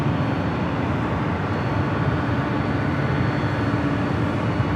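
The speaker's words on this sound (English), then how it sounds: "The Delta 767 at 300ER heading to Honolulu, heading over here for north side at takeoff" A Delta Boeing 767-300ER bound for Honolulu roars down the runway on takeoff at LAX, a steady, loud broadband jet rumble with no break.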